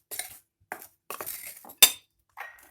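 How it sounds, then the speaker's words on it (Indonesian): A spoon stirring salt into triangle-brand wheat flour in a bowl: a handful of short, light scraping clinks in an uneven rhythm, close and quiet, separated by silence. "Kita aduk rata garam"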